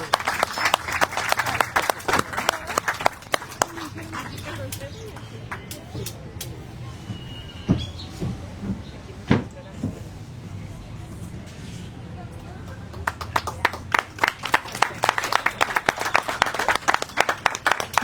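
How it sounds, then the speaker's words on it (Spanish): A crowd applauds at a writers' forum at the 2026 Autlán municipal book fair, sustained clapping at the start, fading into scattered claps and quiet murmuring, then another round of applause swells near the end. "Les pido un aplauso, por favor."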